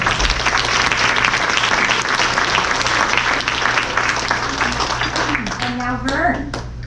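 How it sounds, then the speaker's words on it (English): A crowd bursts into sustained applause, many hands clapping loudly together, with some voices mixed in as it tapers off. "I think we all give ourselves a big round of applause."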